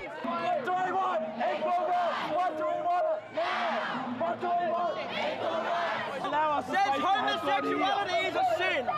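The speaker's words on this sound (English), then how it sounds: "The protesters forced their way through, but more angry clashes ensued at North Terrace." Protesters clash with police at a rally heading to Parliament House on North Terrace, a dense, agitated crowd of shouting and raised voices packed close together, with people talking continuously throughout.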